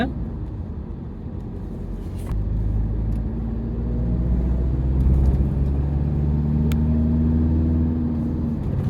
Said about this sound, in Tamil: ஸோ டாப் எண்ட்லேயுமே நமக்கு சவுண்டு தான் எக்ஸ்ட்ரா கேட்குதே தவிர நமக்கு அதில் வந்து பவர் இல்லை